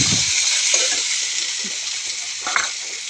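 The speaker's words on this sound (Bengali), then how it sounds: "আদা রসুন বাটা দিয়ে একটু নেড়ে নিয়ে" Ginger-garlic paste sizzles in a pan, or kadai, over steady broadband frying hiss, with a few soft stirring scrapes scattered throughout; close and alone, with no talking.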